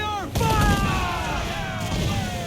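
Cannon fire in Assassin's Creed Black Flag: a heavy booming blast with a sharp onset, echoing out over a dense, rumbling naval battle, with voices shouting under the noise.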